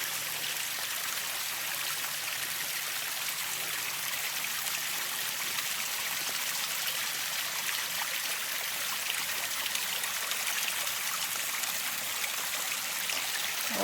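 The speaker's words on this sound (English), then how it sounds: "Oh, I love the sound the water makes." A stream of water flows near a Kentucky waterfall on a fall hike, a steady, even rushing and trickling that continues unbroken and softly, with no voices.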